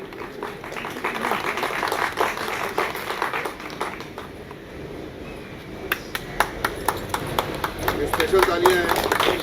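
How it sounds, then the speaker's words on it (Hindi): Scattered clapping from an audience at a press conference for a new TV show, with sharp individual claps picking up in the second half under a busy room and some voices. "स्पेशल तालियां हैं।"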